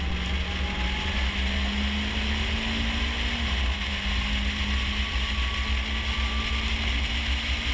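A Mitsubishi Lancer Evolution track car engine drones loudly, its pitch climbing, dropping briefly at a gear change, then rising again, heard from inside or close by.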